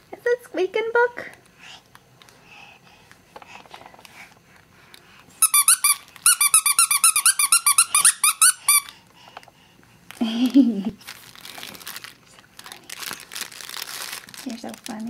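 Rapid bursts of bright squeaks from a baby's squeaky toy ring out close by in the middle, surrounded by crinkling, rustling handling noise and a little speech at the start and near the end.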